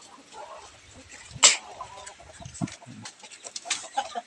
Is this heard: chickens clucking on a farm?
yes